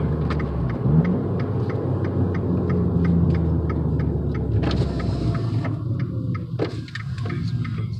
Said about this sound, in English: These windows down so we can all hear this car.